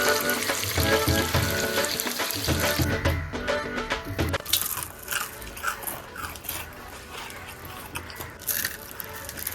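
Chicken feet sizzle and crackle in hot oil, loud at first with stirring and clattering, then settling into a softer, steady frying hiss.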